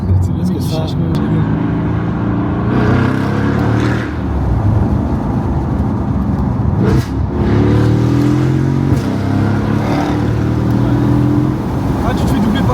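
A Brabus car accelerates on the road, its engine droning and rising loudly from inside the cabin, with a few sharp exhaust pops standing out, while people talk over it.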